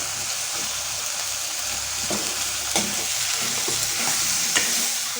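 Cut potatoes frying in oil with salt and turmeric for an Assamese sour fish curry, a steady close sizzle broken by occasional stirring scrapes and soft clicks.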